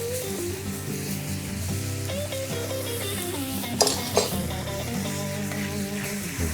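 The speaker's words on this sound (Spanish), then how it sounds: "y añadimos el arroz." Bomba rice from Pego-Oliva tipped into a festive mixed paella pan with cooked meats and vegetables, sizzling steadily in the hot oil, with a couple of sharp clatters midway and background music throughout.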